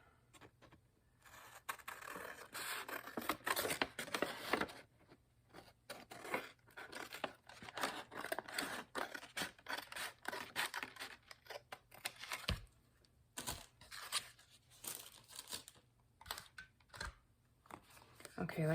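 Paper being trimmed with scissors in papercraft, heard as repeated close, quiet snips and rustles in an irregular rhythm, with soft handling noises in between.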